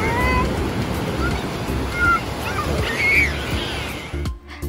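Waves rolling onto the west beach of Pangandaran, a steady loud wash of surf with wind, ending in a sudden cut.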